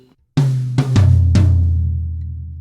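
Four tom hits make up a quick drum fill from a song lesson, close and loud, each ringing boom overlapping the next before a long decaying tail, with no voices.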